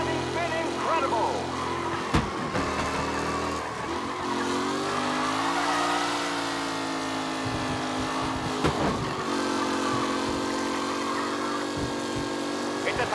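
Race cars in Mafia Definitive Edition roar around the track together, their engine notes rising and falling in steady sweeps with occasional tire skids, under a voice.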